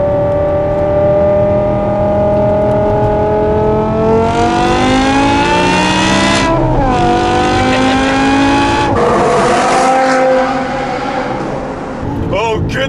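A 2008 BMW M5 E60 with a V10 engine and muffler delete, driven hard: a loud, close howl that climbs in pitch, drops sharply at the shifts and climbs again, with a brief lift-off near the end.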